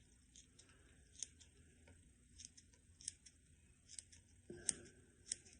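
Scissors snip leaves off freshly cut cannabis buds during a wet trim, quiet and close, with a series of sharp irregular clicks spaced about a second apart and no talking.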